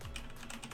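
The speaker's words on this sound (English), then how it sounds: "My very loud keyboard is very loud." Loud computer keyboard being typed on, a quick burst of close, clattering keystrokes in uneven rhythm over a brief moment, with no voice.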